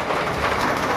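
Heavy rain pours down in a dense, loud, unbroken wash, close by and with no voices.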